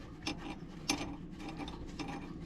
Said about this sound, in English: One of those ratcheting wrenches that I have on my